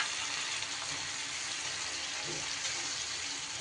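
A spice paste fries with softened tomatoes in a pan, giving a continuous, even sizzle with a watery hiss, steady and close with no breaks.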